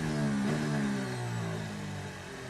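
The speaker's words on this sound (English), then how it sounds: "Let's have a listen on board with Daniel Ricciardo." A loud, high-pitched Formula 1 race car engine screams continuously onboard at the 2019 Bahrain Grand Prix, its pitch sliding down slightly as it runs, heard up close with no voices.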